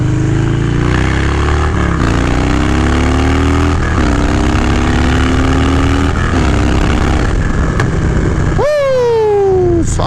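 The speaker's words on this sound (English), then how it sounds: "like the sound of a twin cam with a TBR is amazing." Harley-Davidson twin cam motorcycle engine with a TBR exhaust and stage 1 setup, loud and close, winding up through several gears in a rising, rumbling drone, then a sharp high rev near the end as it climbs toward 80.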